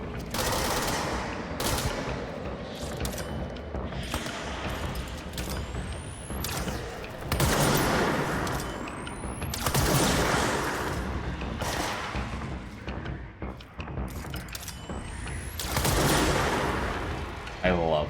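Heavy sustained gunfire in the video game Control, dense bursts and booming shots layered over continuous game noise, with occasional rising whooshes and a voice talking over the action.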